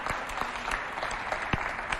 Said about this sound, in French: Alors, ça vaut des applaudissements?